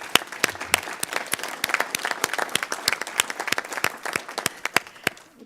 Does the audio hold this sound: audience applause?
yes